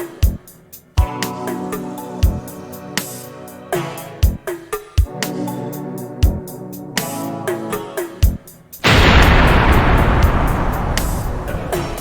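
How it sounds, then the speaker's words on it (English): A card bomb going off in The Journeyman Project video game: after a stretch of game music with sharp hits, a sudden loud, broad rushing blast starts and keeps roaring to the end. "Card bomb activated."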